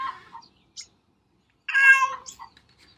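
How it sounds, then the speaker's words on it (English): A six-toed semi-feral barn cat meows in a quiet setting: a short cry, a brief chirp, then a longer, louder drawn-out meow followed by a small trailing call, close and alone. "prescribing deworming medication for Fiona, the six-toed semi-feral barn cat."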